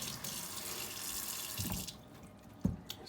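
Tap water runs steadily from a faucet to rinse a honed Woolfblade razor over a Les Lat stone, a constant hiss with a few splashes and a sharp clink near the end.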